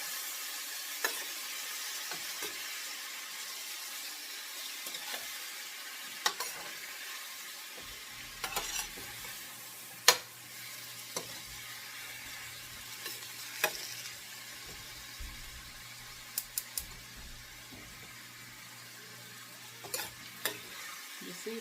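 Cou-cou is stirred in a pot, with occasional faint knocks and scrapes of a utensil over a steady soft hiss, the strokes coming irregularly with quiet gaps between them.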